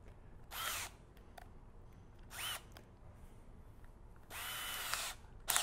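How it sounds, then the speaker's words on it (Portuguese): A Makita 12-volt cordless drill whirs in three short bursts, each lasting under a second or so, separated by quiet pauses, close by. "Agora a gente vai testar a 12 volts da Makita. Também colocar aqui na furadeira."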